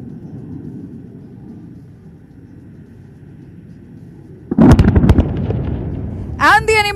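Bombs from Indian Air Force aircraft detonate during a firepower demonstration at Pokhran, a loud burst of blasts breaking in after a low rumbling lull, followed by a brief high whine.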